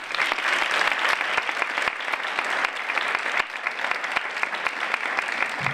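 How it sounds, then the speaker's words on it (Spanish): Steady audience applause fills the hall at an Andalusia Day awards ceremony in 2024, dense and continuous for several seconds with sharp individual claps standing out, loud and close, no talking over it. "Así que un fortísimo aplauso y disfrutemos de ello."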